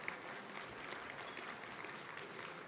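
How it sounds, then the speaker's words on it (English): Quiet, steady applause from an audience at a school district's State of the District event, even clapping continuing throughout without voices. "Let's give them one more hand of applause."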